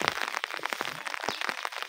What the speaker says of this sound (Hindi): बड़ी तेज़ बारिश लगी हुई हालत है